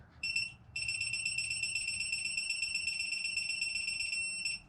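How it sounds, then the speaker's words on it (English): A torque wrench preset to 18 foot-pounds gives a brief electronic beep, then a longer continuous high-pitched beep, heard close up and alone during an LSX engine short-block assembly. "I've already got my wrench here preset to 18 foot-pounds, and I'm gonna turn it until it beeps."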